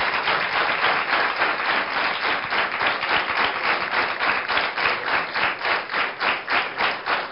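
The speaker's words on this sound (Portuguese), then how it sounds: "Uma salva de palmas para ela." A television studio audience applauds a guest on a Portuguese afternoon talk show, steady dense clapping lasting several seconds and fading slightly toward the end.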